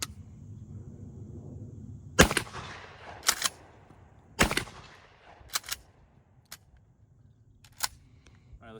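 Maverick 88 pump shotgun fired outdoors at a shooting range, about six sharp loud blasts spaced a second or so apart, each trailing off quickly, with quiet gaps between and some low background noise.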